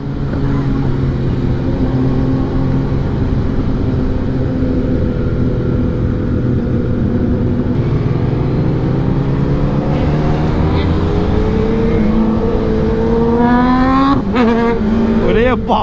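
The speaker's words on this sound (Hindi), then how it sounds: "रात में कितने सारे सुपर बाइक एक साथ।" Several superbikes out on a road at night, their engines droning loudly together, with revs climbing in rising sweeps toward the end as they accelerate.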